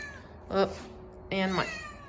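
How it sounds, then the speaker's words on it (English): A shop cat meows twice nearby, two short distinct calls about a second apart against a quiet background. "my shop cat says hi."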